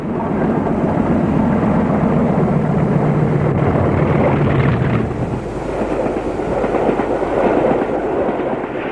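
A British Rail Class 40 diesel locomotive hauls a Cumbrian Mountain Express train at Kettlesbeck, a loud continuous engine rumble and rolling noise close by, easing slightly midway and then surging again, with no voices.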